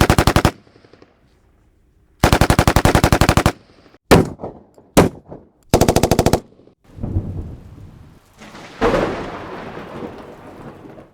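Loud bursts of rapid machine-gun fire alternate with single sharp gunshots, then rumbling thunder and the hiss of rain.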